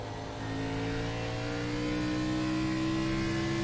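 An iRacing stock car engine at Bristol Motor Speedway drones loud and steady, its pitch climbing slightly as it drives hard through the turns, with no talk.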